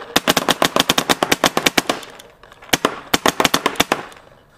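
An Invert Mini paintball marker on an ASA regulator fires a rapid string of shots, around seven a second, in two loud bursts with a short pause between, close and alone.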